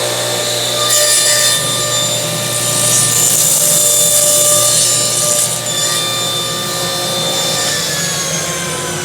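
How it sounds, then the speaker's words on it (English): A CMT Orange saw blade crosscuts a melamine panel, a loud, steady high whine with the pitch rising as the blade bites through the board, then easing off, close up and with no voices. "Okay, here we go. Crosscut melamine."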